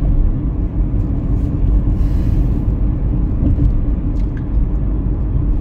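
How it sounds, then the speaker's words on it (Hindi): A car accelerates across the Barapullah bridge in Delhi traffic, a steady close engine drone and road rumble with passing traffic noise throughout, no talking. "अब थोड़ा सा खाली मिला है तो हम थोड़ा रेस दे रहे हैं।"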